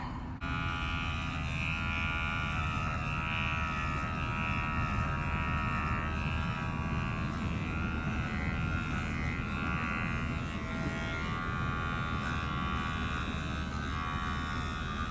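Electric clippers trim the chest fur of a female dog during a light grooming session, a steady close buzzing hum running continuously throughout without a break.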